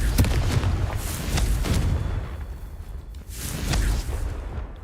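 Repeated booming spell blasts from Confringo, an explosion spell cast in a fantasy video game, several bursts with whooshing tails over rumbling low background.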